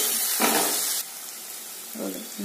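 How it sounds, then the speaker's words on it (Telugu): Mutton sizzles in a pan with garam masala and mutton masala, a steady hiss that swells briefly when something is stirred or added, with quieter frying in between. "ఇవన్నీ వేసుకొని కొంచెం ఫ్రై చేసుకోవాలి"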